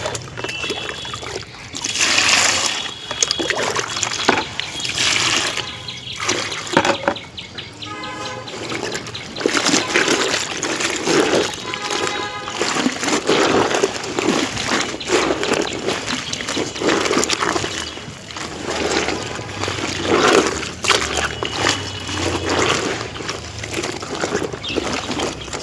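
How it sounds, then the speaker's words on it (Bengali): A pile of clothes being soaked in water for washing: repeated splashes and trickling pours come in uneven bursts, close and fairly loud, with short pauses between. "চলো জামা কাপড়গুলো ভিজিয়ে নিই"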